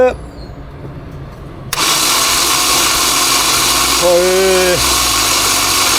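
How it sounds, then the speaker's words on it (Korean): A car engine cranked over by its starter during a cylinder compression test without firing, a steady loud whirring churn that begins abruptly about two seconds in and runs on, with a brief voice speaking over it. "엔진 스타트"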